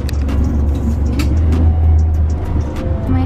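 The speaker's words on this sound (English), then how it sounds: "We're in another bus now." Steady low engine drone and road rumble from inside a city bus in Seoul, continuous and fairly loud throughout, with faint clatter above it and no talking.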